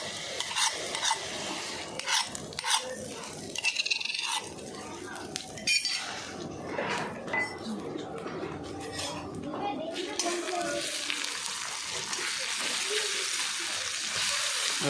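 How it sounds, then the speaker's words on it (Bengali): Hand-pounded ginger garlic paste fries in a pan at an outdoor picnic cook-up, with irregular metallic scrapes and clinks of a spatula and a low sizzle that grows steadier toward the end, while people talk intermittently. "আদা রসুনটাকে ভালো করে ভাজবো।"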